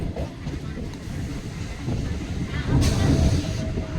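A local train on the Basirhat to Sealdah line pulls into a station stop, its low rumble and wheel noise steady, then swelling near the end with a brief hiss, heard close from on board.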